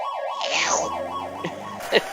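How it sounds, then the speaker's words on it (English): Wailing ambulance siren from the 1989 SNK arcade fighting game Street Smart, a rising-and-falling electronic tone that sweeps steadily over a low synth drone, with a few short game impact effects near the end. "Here comes the ambulance."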